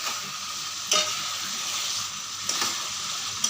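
Tomatoes sizzle steadily in a hot pan while being stirred, with a constant frying hiss and a few soft scraping spoon strokes against the pan.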